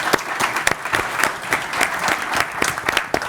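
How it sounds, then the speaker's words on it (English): An audience at a voice AI conference claps steadily throughout, a dense, even wash of applause from a crowd at close range. "I just want to give a huge round of applause for these founders and for you all today"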